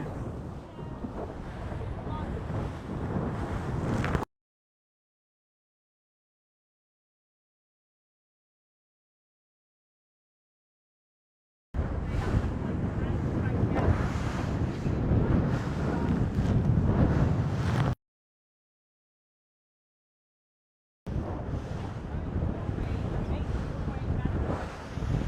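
Wind and steep waves at sea during the Pallas Capital Gold Cup sailing race, a loud rushing roar buffeting the microphone in three long bursts separated by total silence, with possible voices mixed in.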